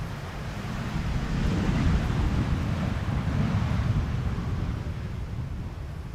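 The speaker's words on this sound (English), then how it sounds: "Wind not slowing down yet." Strong wind at the Polderbaan runway 18R, Amsterdam Schiphol, blowing across the microphone as a continuous broadband roar that swells slightly and stays steady, with no voices.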